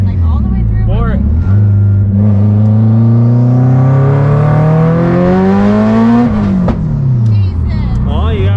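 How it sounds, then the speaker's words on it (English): A loud, tuned Subaru STI revs hard, engine pitch climbing steadily through a long pull, then dropping at a gear change and rising again, close and dominant inside the car while occupants talk over it. "Wife's not used to how loud the car is here."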